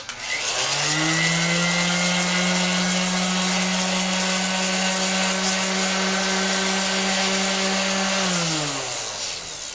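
A rotary sander fitted with 100 grit sandpaper runs at a steady, loud whine for about nine seconds, then spins down at the end.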